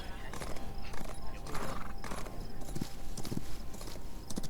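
Horse hooves clip-clop steadily in the Justice Online video game as the mount travels along, a close, rhythmic clatter of hoofbeats with a brief whinny, set against busy ambient game sound.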